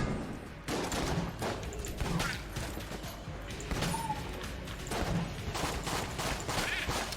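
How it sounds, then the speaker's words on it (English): Rapid bursts of pulse cannon gunfire from the Enter the Gungeon video game, a dense continuous fusillade with repeated sharp shots and mechanical clatter running throughout at steady loudness. "It's the pulse cannon."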